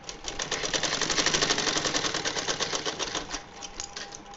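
A sewing machine stitches a seam on a small summer dress for a Laddu Gopal doll, making a fast, even, mechanical clatter that runs close and steady for several seconds before slowing slightly near the end.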